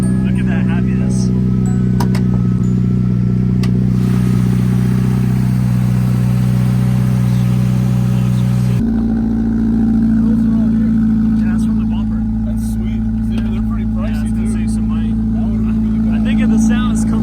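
Subaru BRZ being rebuilt after a wreck, its engine idling steadily with a low droning exhaust note that shifts slightly in pitch partway through, loud and close, with people talking over it.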